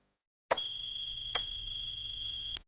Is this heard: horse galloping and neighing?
no